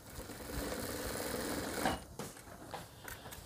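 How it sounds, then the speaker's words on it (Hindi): Sewing machine stitching seams on a ladies jacket, running in a steady continuous whir for about two seconds and then slowing into short separate bursts of stitching. "यहाँ पे नीचे इसको एक सिलाई इस तरफ लगा लूँगा और एक सिलाई इस तरफ लगा लूँगा"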